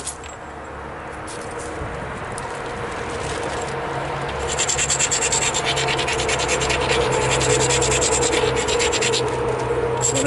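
The edge of a novaculite flint spear point preform is ground against an abrasive in a close, continuous gritty scraping and rubbing that grows slightly louder partway through. No one talks.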